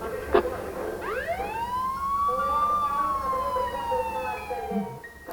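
An ambulance siren played as a joke exhibit at a museum, rising into a loud wailing tone that sweeps up, holds and slowly falls over several seconds, close by, with a brief knock before it starts.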